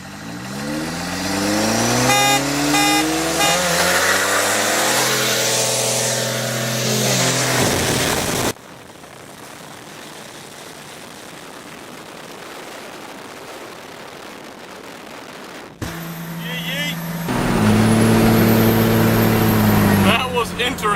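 A Cummins turbo diesel truck races a Ford Focus: loud engines rev and climb in pitch, give way to a long stretch of rough wind-like roar, then rev hard again with a high whine, while people talk.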